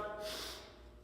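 One quick, deep breath is drawn in through the nose before a plyo push-up, heard close and quiet, with no talking.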